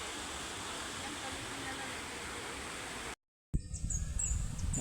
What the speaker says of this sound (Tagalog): Ilog, ganda ng ilog, malalaking bato.